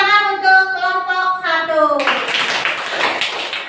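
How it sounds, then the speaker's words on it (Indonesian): A classroom of schoolchildren claps for a group after a discussion. Voices chant or speak together first, then a burst of close, brisk clapping fills the last couple of seconds. "Tepuk tangan untuk kelompok"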